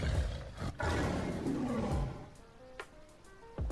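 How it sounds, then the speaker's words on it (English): A big cat in the video game Street Fighter 6 lets out a deep, drawn-out roar, followed by a few sharp thuds and scattered sounds as the roar fades. "Kitty cat."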